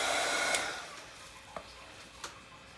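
An embossing heat tool blows continuously over a magazine collage, a steady whooshing hum that fades slightly after the start, with a few faint clicks near the end.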